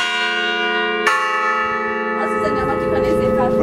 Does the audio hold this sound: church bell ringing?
yes